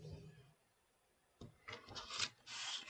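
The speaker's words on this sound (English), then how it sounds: "draw a score line using our ruler from the middle point to the score line at 7 inches, and just score a straight line" A blade is scored along a ruler on paper for a 12-inch Christmas gift bag, making quiet, close scratchy drags after a brief murmur, a few short strokes and then one longer scrape.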